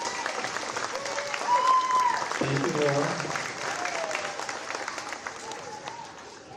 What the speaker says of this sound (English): we can give her a clap